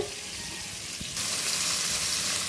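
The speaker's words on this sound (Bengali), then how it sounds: "মাছগুলো ভেজে নিচ্ছি হলুদ লবণ মাখিয়ে" Fish pieces coated in turmeric and salt fry in a pan, giving a soft hiss that swells into a louder, steady sizzle about halfway through.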